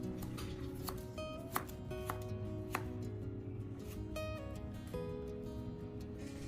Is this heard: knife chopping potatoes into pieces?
yes